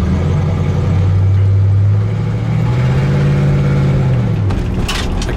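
1968 Oldsmobile Cutlass S with a 350 Rocket two-barrel V8 idles steadily at close range, a deep low rumble that shifts pitch slightly as the idle settles down, then falls away near the end with a brief clatter.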